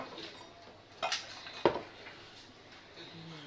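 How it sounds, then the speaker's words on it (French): Salad ingredients are tipped into a serving dish, producing two close clunks and a brief scrape over a faint, hushed kitchen background. "Maintenant, on met tout dans le plat et après on va tout mélanger."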